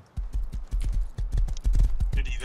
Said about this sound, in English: this horse is fast as fuck